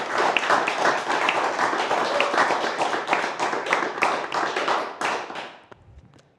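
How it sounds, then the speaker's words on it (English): Audience applause at a poetry reading at a writing festival, a sustained round of dense clapping from a room of listeners that fades out toward the end. "Them claps went on for a long time."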